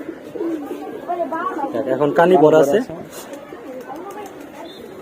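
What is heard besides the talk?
pigeons cooing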